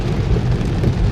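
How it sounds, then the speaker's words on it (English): Heavy rain pours steadily during a storm under a flood advisory, a dense, continuous wash of drumming on surfaces that stays loud and even throughout, with no voices. "it's supposed to keep raining like this until 11-ish"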